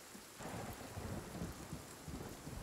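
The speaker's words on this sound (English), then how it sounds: "Look at this rain." Steady rain and a low rolling rumble of thunder during a storm in the survival game Sons of the Forest, a dense continuous wash heard alone without voices.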